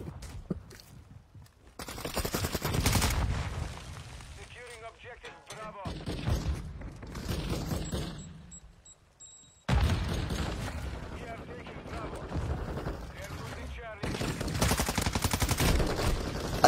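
Gunfire in a shooter video game comes as bursts of rapid automatic shots in several loud stretches, broken by brief lulls, with someone talking between and over them.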